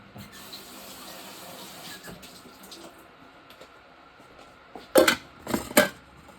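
A kitchen tap runs water into a coffee drip pot basket, with faint trickling early on, then several loud splashing gushes near the end, close and without talk.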